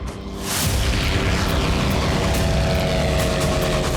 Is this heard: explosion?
yes